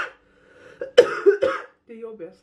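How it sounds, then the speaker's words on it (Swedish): A person with a cold coughs hard several times in a row, loud and close, then clears their throat with a few rougher, lower hacks. "jag hostar väldigt mycket och har gjort väldigt länge"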